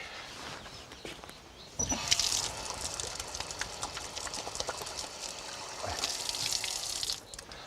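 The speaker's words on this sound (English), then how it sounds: "what I must do is wash my hands" Hands rinsed under a running garden tap after handling Lily of the Valley, a steady hiss of flowing water that starts abruptly, runs for several seconds, then stops, with faint outdoor background.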